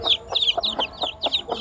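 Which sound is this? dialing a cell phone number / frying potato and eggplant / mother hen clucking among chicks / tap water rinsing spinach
mother hen clucking among chicks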